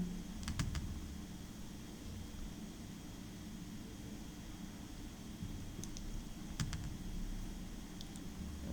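Keys tapped on a computer keyboard while entering an Excel formula, a few short clusters of faint clicks over a quiet, steady background hum.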